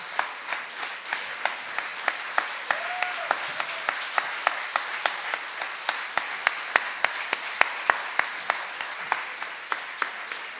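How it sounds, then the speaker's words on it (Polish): Audience applause fills a festival award ceremony hall, a steady wash of many hands clapping with sharp individual claps standing out, sustained throughout at moderate distance. "Brawa, brawa, proszę państwa."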